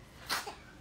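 A single quiet sneeze, short and soft, heard faintly against a low background hiss.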